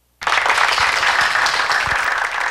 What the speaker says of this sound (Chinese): 来，现场的同学用咱可爱的掌声欢迎主唱者。